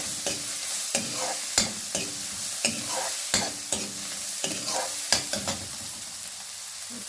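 Chopped onion, garlic and ginger fry in a pan for a curry while a utensil stirs them, giving a steady sizzle broken by sharp scraping strokes about once a second, close and clear, with no talking.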